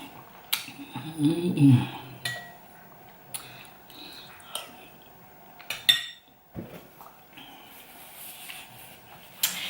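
A large spoon clinks and scrapes against a dish during a meal of sua fa'i, giving scattered short metallic taps and clatters with chewing sounds between them, close and moderately loud.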